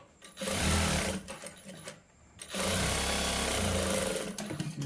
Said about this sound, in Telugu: ఈ విధంగా అనుగుడు కుట్టు అనేది వేసుకోవాలి